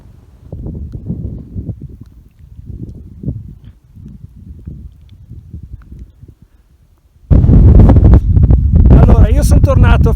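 Strong wind blows across a high mountain pass at Forcella Giau in the Dolomites, first as low, uneven rustling and buffeting, then as a loud, roaring blast against the microphone for the last few seconds.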